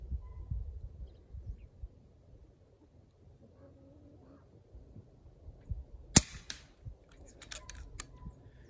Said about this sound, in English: and then we'll shoot the actual gel.